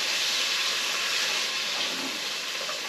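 Onions, peppers and chopped garlic sizzle in a hot pan while a venison roast is being cooked, a steady, close, loud hiss with no pause and no talk.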